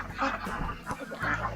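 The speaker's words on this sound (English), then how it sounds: "Look at all the birds." Several chickens and roosters cluck and squawk close by in a brief, busy burst of overlapping bird calls.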